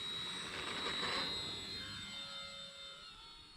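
An F8F Bearcat plane engine drones steadily as the aircraft comes in to land, a constant roar with a thin high whine riding on top and no voices over it.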